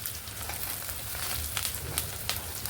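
Curry leaves, mustard seeds and a chilli fry in hot oil for an Andhra masala vada curry, a steady close sizzle dotted with small crackling pops, no talking.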